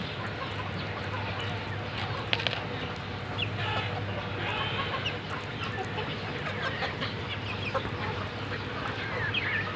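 Backyard chickens cluck softly and steadily while pecking at scattered puffed rice outdoors, with a constant low hum running underneath.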